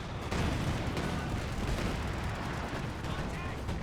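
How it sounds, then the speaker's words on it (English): Artillery fire in Company of Heroes 2, a steady barrage of booming impacts and rumbling blasts layered over dense battlefield noise, loud and continuous. "Taking artillery fire."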